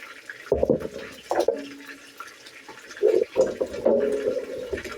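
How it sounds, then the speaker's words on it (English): Water splashes and pours in short bursts into a cooking pan, with a brief sizzle and hiss between the pours, close by with no talking. "Put some water on there with it."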